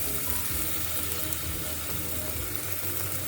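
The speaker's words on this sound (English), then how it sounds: "I love the sizzling sound, don't you?" Cumin seeds with ginger and green chili paste sizzle in hot oil for an Indian curried eggplant dish, giving a loud, close, continuous hiss with small crackles and no talking.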